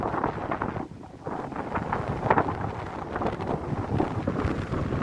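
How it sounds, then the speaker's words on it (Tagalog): Strong wind buffeting the microphone in heavy, rumbling gusts, loud and continuous with a brief lull early on. "Pero sobrang hangin. Hindi pwedeng magsombrero. Ang lakas ng hangin."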